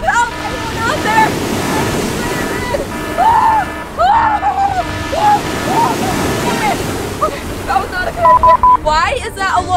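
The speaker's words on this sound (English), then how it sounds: "These waves are huge!" Huge ocean waves near a boat off a deserted island, steady surf rumble and wind noise under a voice that talks loudly and excitedly over the water throughout.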